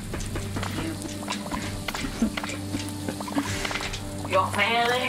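Cartoon chickens cluck and squawk in repeated bursts in the cooking video game Overcooked, mixed with game effects, while players chatter over the noise.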